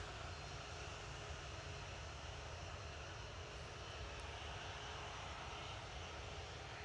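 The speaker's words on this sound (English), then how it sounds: "I'm going to get the Ryanair coming in from Malta touchdown" A Ryanair jet arriving from Malta touches down at Manchester Airport, its engines producing a loud, steady broadband roar that holds without a break throughout.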